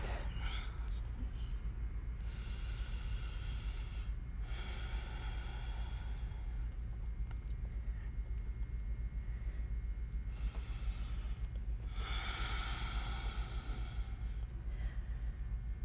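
Slow, deep, audible breaths from someone doing a yoga flow, a few drawn-out inhales and exhales spaced several seconds apart. They are faint against a low, steady background hum.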